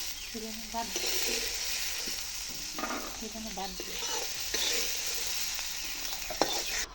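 A utensil stirs and scrapes through food for coconut, chana and peanut chutney in a hot pan, with a steady sizzle underneath and a few louder scraping strokes.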